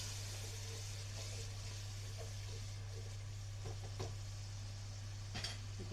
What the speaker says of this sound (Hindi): अच्छी तरह इसको मिक्स करना है।